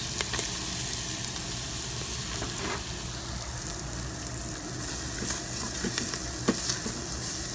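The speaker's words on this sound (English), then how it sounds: "now that the onions are starting to turn translucent, we're going to add the carrots" Onions and carrots sizzle in an Instant Pot, a steady close frying hiss with occasional faint stirring scrapes, with no one speaking.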